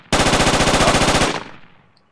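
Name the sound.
automatic rifle fire in the video game Project Reality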